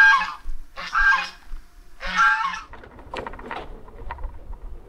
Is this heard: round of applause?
no